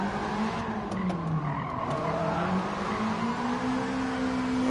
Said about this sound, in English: it won't quite drift if I rev it and dump the clutch